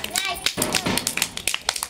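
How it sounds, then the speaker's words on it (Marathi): Children clapping for a small child in a nursery classroom, a quick scattered burst of hand claps and taps, close and uneven, mixed with children's chatter. "आरुष साठी टाळ्या वाजवा"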